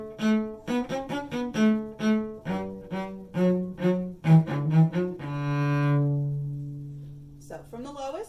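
A cello played on its high strings, a run of separate bowed notes in steady succession ending on a long sustained tone, close and clear with no voices.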